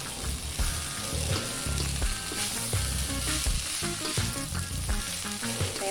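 Cassava peels fry with oncom in a pan while being stirred, a dense, steady sizzle broken by repeated scraping and clanking strokes, close and continuous, with no talking.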